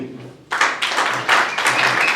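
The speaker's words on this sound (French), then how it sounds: "On peut applaudir." Audience applause at a clinic's 30th anniversary celebration in Matadi, bursting in after a brief quiet start and continuing as dense, steady clapping that swells in waves, with voices mixed underneath.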